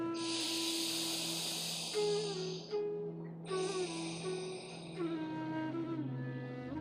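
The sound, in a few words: slow breathing through the left nostril, yoga exercise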